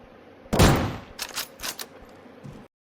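Mosin rifle fire in the Deadside shooter game: one loud, close shot rings out, then several quicker sharp reports follow before the sound cuts off abruptly.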